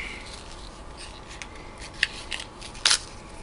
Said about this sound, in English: Okay, so this is 16 gauge wire, and I am just going to snip a little piece off of here.